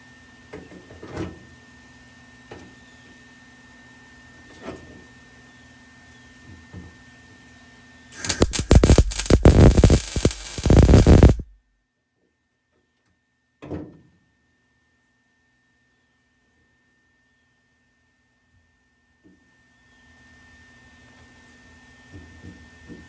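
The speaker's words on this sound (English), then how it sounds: "weld right down the center of the nut to hit that washer, and then fill up the hole there" A nut is welded onto the washer of a broken bolt. A harsh crackling burst of about three seconds rises out of a low workshop hum, followed by a single brief click and then near-silence.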